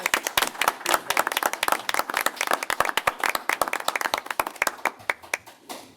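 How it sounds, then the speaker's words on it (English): A meeting audience claps for an honoree at a school board session, a dense patter of many hands close by that thins and fades toward the end, with no talking over it. "So can we give Dan a round of applause?"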